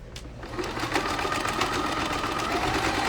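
A sewing machine stitches the fabric lining of a pouch, a close, steady mechanical whir with rapid needle clatter running continuously for a few seconds, no speech over it.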